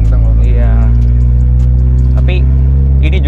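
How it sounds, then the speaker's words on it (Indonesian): A loud VW Scirocco R with an AWD setup drones steadily at idle or low revs, a deep constant hum filling the clip, with brief higher chirps over it. "Walaupun suaranya kenceng, suara mesinnya kenceng."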